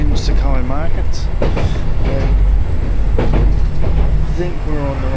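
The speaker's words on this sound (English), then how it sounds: "Well, we think we're on the right tram." A tram ride in Osaka toward Ebisucho: loud, continuous rumble and rattle of the moving car with squealing wheels and clatter, while people talk throughout.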